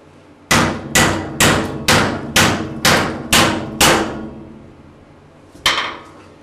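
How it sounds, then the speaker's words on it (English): Eight sharp, loud hammer blows ring out in a steady rhythm against a brazed joint in 1/8 inch aluminum, followed after a pause by one more strike. "Hammer to it."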